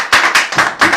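A church congregation claps in acclaim of Jesus during a thanksgiving service: four loud, evenly spaced hand claps close to the listener.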